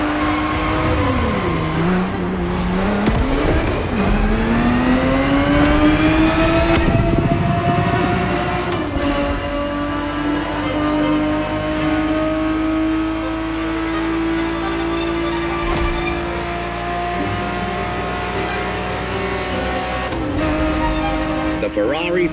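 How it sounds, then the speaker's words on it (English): A Ferrari 365 GTB4 V12 engine roars in The Crew Motorfest racing game, loud and continuous, its pitch sweeping down and up through gear changes and revving. "The Ferrari 365 GTB4 is the perfect vehicle for you to experience Ferrari racing as it felt back in the 70s"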